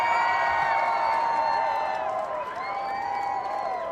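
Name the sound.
crowd cheering in Cricket Club VR video game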